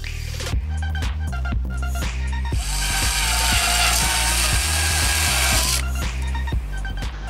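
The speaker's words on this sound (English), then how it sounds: "Now drill the hole where you marked the dot." A power drill whirs steadily, rising to a harsher grinding pitch as it bites through a BMW M3's front bumper for a license plate bracket, then winds back down to a hum.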